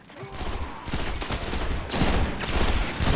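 Gunfire and grenade blasts in a Destiny Trials match, a dense, continuous fusillade of rapid shots and bursts, loud and close throughout with no pauses.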